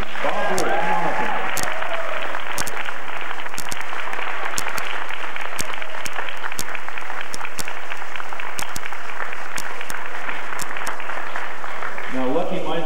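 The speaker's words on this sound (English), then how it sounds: "I would like the audience to give a big round of applause to Mr. Bob Rule" Loud, sustained applause from an audience at a lifetime achievement award for a yo-yo figure, dense clapping running for over twelve seconds, with voices mixed into the crowd noise.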